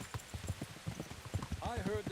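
Horse hooves clip-clop steadily on the ground while riding in Kingdom Come: Deliverance, a regular beat of close hoof strikes running under a voice, with a brief tonal flourish near the end.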